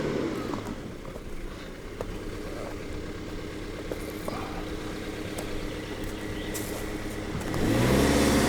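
Subaru XV 2021 Hybrid 2.0ie Platinum driving up a steep slope, a steady low engine and road drone heard from inside the car, swelling louder as it accelerates near the end.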